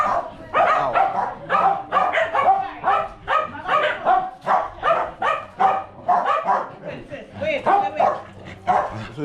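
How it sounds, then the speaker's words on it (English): Several dogs barking excitedly at feeding time outdoors in Trinidad, a rapid, loud, overlapping series of barks and yips with some whimpering, continuous for the whole stretch. "Wow, it's a dog frenzy."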